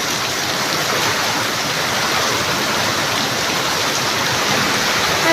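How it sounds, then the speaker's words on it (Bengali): Heavy rain pouring down in a steady, dense roar that stays loud and unbroken throughout, with no voices or other sounds on top. "দেখেন কি দূরে বৃষ্টি হইতেছে, অনেক বৃষ্টি হইতেছে"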